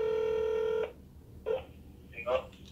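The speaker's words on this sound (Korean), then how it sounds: "자 이번 전화는 우리 용주 선배님한테 전화를 해보도록 하겠습니다" Phone tones of an outgoing call: a loud steady tone ends suddenly, then two short separate beep bursts follow with quiet gaps between them.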